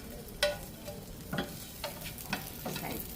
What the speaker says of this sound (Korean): 초록색은 그냥 기름만 묻혀주세요. 기름만 묻혀주시고 이쪽으로 익혀주시고